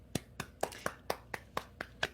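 A single person claps slowly and steadily, about nine distinct sharp claps spaced evenly, faint and close in a quiet room with no voices.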